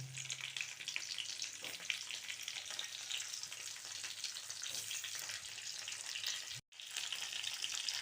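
Whole eggplant curry frying steadily in a pan over a low stove flame, a continuous close sizzle and crackle with no voices, briefly cutting out near the end before resuming.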